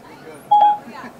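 A brief dialing tone from an Apple CarPlay phone call, a single short electronic beep heard under a voice speaking nearby.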